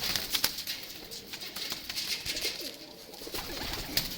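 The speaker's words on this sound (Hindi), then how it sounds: "ये मिस्त्रियों वाले कबूतर हैं माशाल्लाह" Mistri-breed pigeons coo softly and repeatedly in a loft, with light rustling and occasional wing movement close by, no talking.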